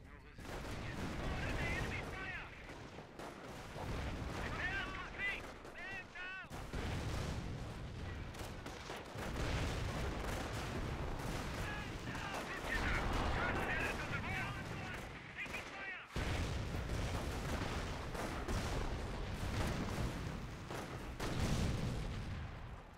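Enemy gunfire and artillery pounding a base in a war video game: repeated bursts of shots and heavy blasts come in waves, with brief lulls between barrages and a dense, loud backdrop throughout.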